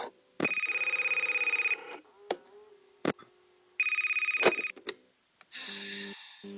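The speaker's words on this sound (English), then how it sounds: "Phone call." An electronic phone ring in the video game FNAF Last Time sounds in two long bursts with short clicks and tones between, followed by a brief lower buzzing tone.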